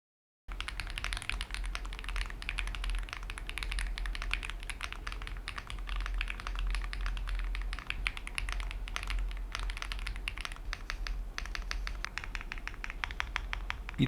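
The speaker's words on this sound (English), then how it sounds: "let's do a typing test" Fast, continuous clacking of keys on a Mechlands Blade 75 mechanical keyboard, close and crisp, with a steady rhythm and no speech.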